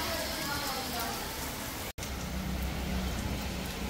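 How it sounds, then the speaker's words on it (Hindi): Evening rain falling steadily, a constant hiss of drops on surfaces with a brief silent break midway, moderately loud and close. "शाम की बारिश"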